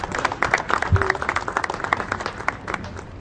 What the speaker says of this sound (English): why don't everybody just give her a big round of applause